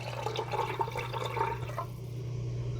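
Vegetable stock is poured into a soup pot for late-summer minestrone, a faint, soft trickle of liquid lasting under two seconds before it trails off into a quiet background hum.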